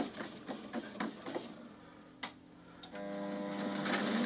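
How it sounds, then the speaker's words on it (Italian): A yarn splicer joins two thread ends at a yarn rewinding machine, giving a few mechanical clicks and taps, then a short whoosh followed by a rising steady machine hum. "si mette i due capi nello splicer e il filo viene saldato, non c'è più il nodo"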